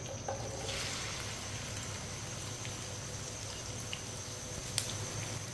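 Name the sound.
cut okra (bhindi) frying in a pan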